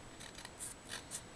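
Scissors trimming paper on a crochet-flower placard give a few quick, soft snipping cuts in close succession, faint and close.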